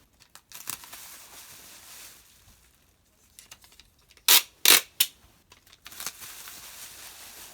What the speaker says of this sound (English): this is just going to be a lot of taping